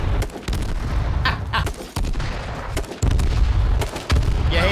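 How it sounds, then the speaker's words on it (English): Grenades burst in the battle royale game H1Z1, with loud, booming blasts arriving in quick succession amid crackling gunfire, dense and close throughout. "Was that a nade? Is that a nade? Teddy's just whooping nades."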